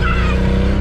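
A Ford Bronco II engine revs while driving in snow, a loud, close and steady rumble that lasts the whole brief moment.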